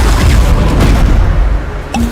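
A Bombarda spell explosion in the video game Hogwarts Legacy: a loud, sustained booming blast with a low rumble, ending in a brief sharper crackle.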